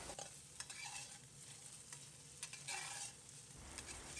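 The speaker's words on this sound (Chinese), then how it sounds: "利用锅的底油煎火腿，同样把火腿煎至4面金黄。" Ham frying in the leftover oil at the bottom of a wok until golden on all four sides, a faint close sizzle with scraping turns of a spatula, quiet and continuous with no talk.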